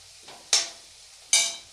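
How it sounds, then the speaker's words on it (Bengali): Onions frying lightly in oil in a pan, with two sharp sizzling bursts spaced under a second apart and a soft, steady crackle between them. "এখানে পেঁয়াজ দিয়ে দিয়েছি তেলের সঙ্গে। ঠিক আছে, পেঁয়াজটাকে কিন্তু আমি একটু অল্প ভেজে নেব।"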